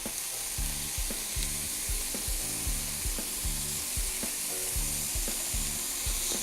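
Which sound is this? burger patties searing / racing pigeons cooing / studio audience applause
burger patties searing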